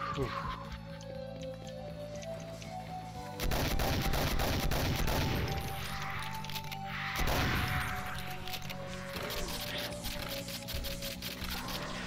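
Rapid bursts of gunfire from a shotgun-style weapon in the first-person shooter Doom, loud repeated blasts over game music with someone talking, plus creature honks.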